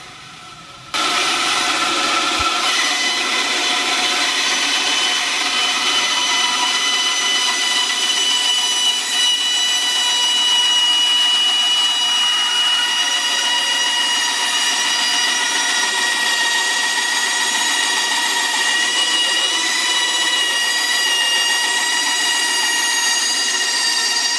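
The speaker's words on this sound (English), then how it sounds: "I have to use this bandsaw to cut the radius that I want" A woodworking bandsaw cuts a curved radius in a board for a martial arts weapons wall rack, giving a loud, continuous, even whine with a bright, hissing edge that holds steady for the whole stretch.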